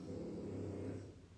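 A person snores indoors in one long, rasping, low breath that fades out at the end. The sound is quiet and close.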